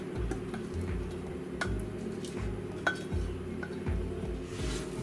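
Melted butter and sweetened condensed milk are stirred together in a bowl, giving a run of steady, rhythmic scraping and knocking strokes, close and moderately loud, with a few sharper clinks of the utensil.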